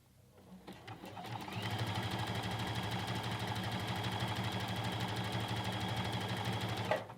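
A sewing machine runs steadily for several seconds, stitching a narrow zigzag along a knit sleeve band on a dolman top, with a soft start and a brief bump near the end.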